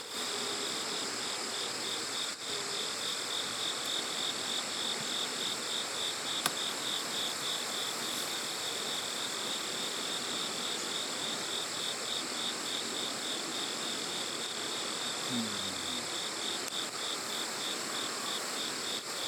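A strong honeybee colony buzzes in a hive during early autumn beekeeping, a dense continuous drone heard up close and steady throughout, with no talking.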